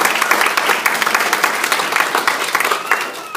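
Steady audience clapping at a meeting, a brisk, even patter of many hands for a few seconds with no voices over it.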